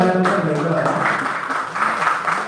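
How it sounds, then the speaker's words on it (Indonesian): Applause from a group, a steady patter of clapping lasting a couple of seconds with a voice speaking over it. "tepuk tangan boleh"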